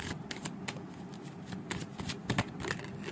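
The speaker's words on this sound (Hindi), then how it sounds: "दो कार्ड्स और निकलेंगे आपके लिए।" Tarot cards shuffled by hand during a card reading, giving a steady run of papery riffling and flicking bursts up close, with no talking.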